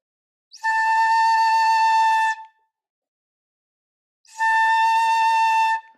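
A shinobue, a Japanese bamboo transverse flute in 8-tone choshi, sounds note 6 twice, each a clear, steady held tone of about two seconds, separated by a pause.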